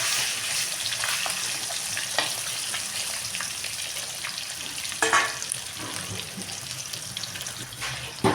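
Pieces of katla fish frying in hot oil, a constant close sizzle with scattered pops and a few sharper spatters, heard without speech.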